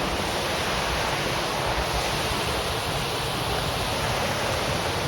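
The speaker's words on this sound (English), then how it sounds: "You probably can't hear me much now because I'm close to the waterfall." A waterfall roars close by on a nature trail, a thick, unbroken rush of falling water that fills the whole scene at an even, loud level with no voices.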